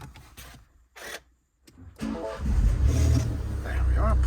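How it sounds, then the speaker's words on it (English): A 2017 MINI One 3-door engine cranks and starts inside the car, catching around halfway and settling into a steady low idle rumble, with brief speech before the start. "I'll just start the engine up."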